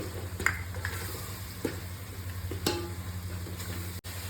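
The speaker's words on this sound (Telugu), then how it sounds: "మసాలా అంతా మంచిగా వేయించినండి." Masala of chili powder and coriander powder fries in a pan for a South Indian chicken curry. A steady, close sizzle is dotted with soft scraping and stirring clicks, with no voices.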